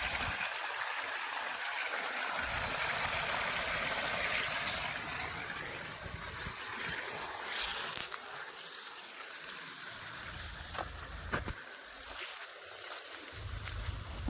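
Irrigation water flows steadily through a channel cut in a farm field, running into grass; a continuous close rushing wash with no speech.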